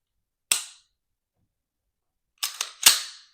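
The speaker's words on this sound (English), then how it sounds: "I'm gonna just give you a brief example of the trigger" A Springfield Echelon pistol trigger dry-fires with one sharp crisp snap, then after a pause a quick cluster of three clicks as the trigger is released and resets, close and isolated with no talk.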